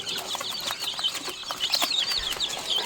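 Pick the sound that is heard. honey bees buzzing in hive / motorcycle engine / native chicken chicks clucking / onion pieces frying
native chicken chicks clucking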